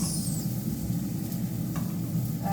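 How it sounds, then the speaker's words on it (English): Onions frying in a pan greased with low-calorie cooking spray give off a steady, even sizzle that runs close and continuous throughout, with a few faint utensil scrapes near the end. "I'm just going to fry some onions."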